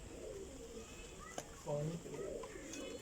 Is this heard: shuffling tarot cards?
no